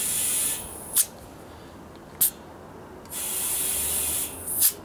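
Air compressor inflating a trailer tire on a 6' x 10' Triton trailer, heard as steady hissing bursts of air, with short sharp spurts between longer fills, close and moderately loud.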